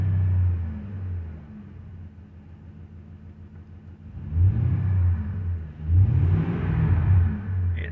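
Freshly rebuilt 5.4L 3V Ford V8 engine on its first start, held near 2000 RPM, a steady low rumble that swells louder in later surges, close and alone with no talk.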